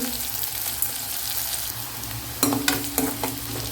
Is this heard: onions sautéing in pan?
yes